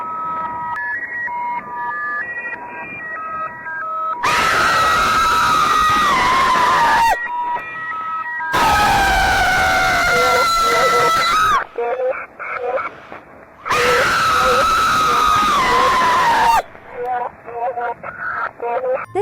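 Screaming played from a creepy Android app, heard as three loud, sustained wailing bursts about three seconds each, separated by quieter electronic tones and beeps.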